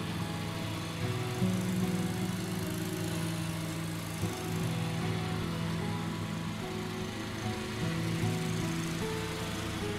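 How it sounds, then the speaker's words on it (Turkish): Cartoon lawn mower cutting football pitch grass, a steady mid-pitched engine drone with humming tones that waver slightly in pitch, moderately quiet and continuous with no speech. "Futbolcuların rahat koşmaları için çimi biçiyor."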